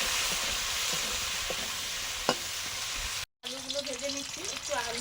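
Bitter gourd (karela) fries in hot oil with a steady, close sizzle for about three seconds, broken by a brief silence. A voice then speaks over softer frying.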